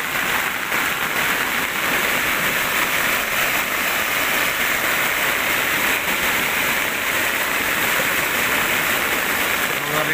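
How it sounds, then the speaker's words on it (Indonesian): Torrential floodwater rushes after heavy rain in a village in Tanggamus, with a loud, steady, unbroken roar of water close by throughout. "Lihat nih airnya tuh. Sangat deras sekali"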